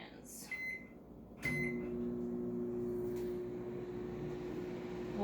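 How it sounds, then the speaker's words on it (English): Microwave oven humming steadily as a protein brownie cooks, following a door click and a couple of beeps, with a low, even drone that continues to the end. "Alright, so we're going to put it in the microwave."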